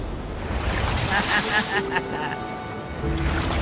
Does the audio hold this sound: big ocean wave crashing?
yes